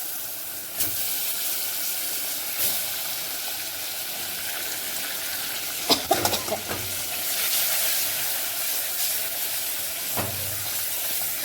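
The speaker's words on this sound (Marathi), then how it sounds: "हा काही आपण मासे टाकून घेऊ" Fish frying in a pan with red chilli powder and chutney for a coconut fish curry, a continuous close sizzle and steamy hiss with a few louder spits and stirring clatters midway, no talk.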